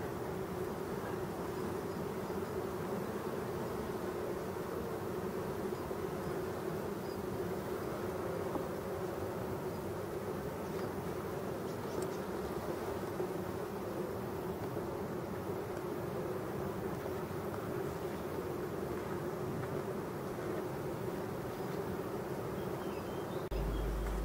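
A steady, dense hum of honeybees fills an opened hive throughout, a continuous low buzzing drone with no talk over it.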